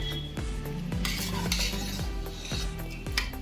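Chicken ghee rice masala being stirred after ground tomato paste is added, with a spoon scraping the pan in a steady rhythm of repeated strokes over a low, constant sizzle, close and moderately loud.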